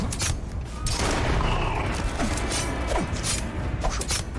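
Gunfire in the sci-fi video game Starfield: a dense, continuous burst of weapon fire with sharp cracks and booms running throughout, loud and close, with no talk over it.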